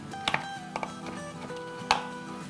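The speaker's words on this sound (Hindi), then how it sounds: "बस ऐसे ही हम रफली चॉप कर लेते हैं।" Fresh green coriander roughly chopped with a knife on a board while making pyaaz wala keema: a few sharp chops, then two quick ones and a single louder chop, over faint sizzling of frying onions.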